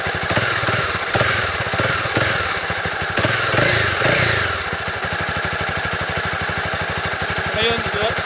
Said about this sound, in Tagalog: Yun nga kamotobike, ito yung stock exhaust niya.